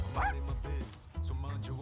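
A dog in Persona 3 Reload gives a short whimpering yip, close and clear over soft background game music.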